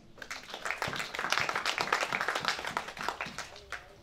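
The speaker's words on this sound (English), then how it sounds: "Clap your hands to Jesus." Congregation in a church service clapping hands in a quick rhythmic patter that swells and fades, with voices speaking and calling out over the clapping.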